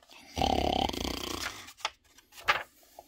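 A storyteller's voice imitates an otter snoring: one long, loud rasping snore up close, then a few shorter snorting breaths.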